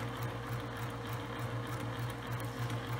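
A sewing machine stitches fabric for a zippered tote bag, giving a quiet, steady, rapid mechanical whir throughout with no speech.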